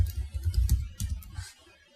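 A command being typed on a computer keyboard, a short close burst of quick key clicks over about a second and a half, then quiet, with no voice.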